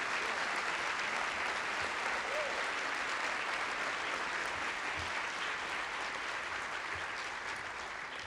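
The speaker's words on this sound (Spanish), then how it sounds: "para quien pido un fuerte aplauso esta mañana" Steady, sustained audience applause greets Nobel laureate Mario Vargas Llosa before a morning lecture on liberty, a broad even roar of clapping from a large crowd that holds level for over eight seconds, moderately distant and without talk.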